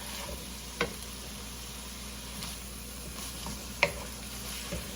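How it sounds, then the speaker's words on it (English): Onions and ground meat browning in a pan, a soft, steady low sizzle heard at a distance, broken by a couple of brief utensil clicks, with no speech. "So we just want to make sure that our onions get tender. And our meat is all brown."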